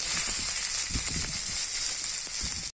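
Onions sizzle steadily in hot oil in a pan while chicken kosha is being cooked, a continuous bright frying hiss close by, with soft crackles and no voices.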